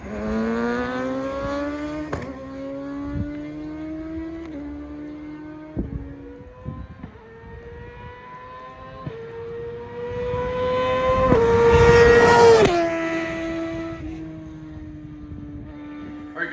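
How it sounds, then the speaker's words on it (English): A 2023 Kawasaki ZX6R makes a flyby with its quick shifter enabled. The loud engine note climbs through several crisp upshifts, swells as the bike passes close, then drops away. "But I'm gonna do another flyby with the quick shifter enabled."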